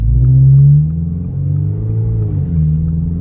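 A Toyota GR86 on the move, its exhaust giving a loud, close, low droning rumble that swells briefly under acceleration, then settles into a steady cruise with slight pitch shifts.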